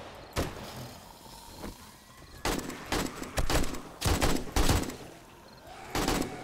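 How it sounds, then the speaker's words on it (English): Gunfire during horde night in the survival video game 7 Days To Die: several short bursts of shots, some close and sharp, others softer, spread irregularly across the stretch over low game ambience. "Where are you shooting, Michael?"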